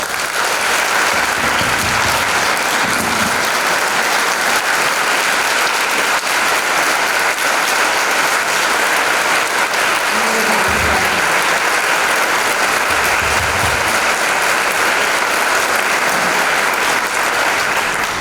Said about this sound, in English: We'll just bring one final round of applause in recognition of Ms. Balfour.